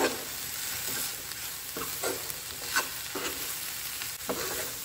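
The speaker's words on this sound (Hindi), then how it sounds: "तो अब हम इसे कंटिन्यूअसली स्टर करते हुए सिर्फ 2 मिनट के लिए जो है ना पकाएंगे" Spice masala for an egg curry, with chicken masala, cumin and coriander powder, sizzles in a pan while a spoon scrapes and stirs in steady repeated strokes, close and alone.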